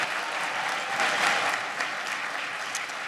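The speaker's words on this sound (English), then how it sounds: "Let's give a round of applause to Mr." Audience at a high school graduation ceremony applauding in a dense, steady wash of clapping that swells briefly midway and holds at a loud level throughout.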